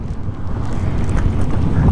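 Steady wind buffets the microphone with a low, rumbling roar that swells slightly, no voices.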